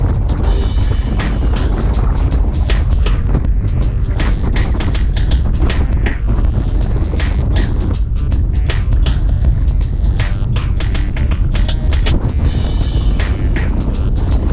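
Steady, heavy wind buffeting a microphone while cycling on a windy group ride over rolling terrain, a loud continuous low rumble with gusty fluctuations throughout and no talk.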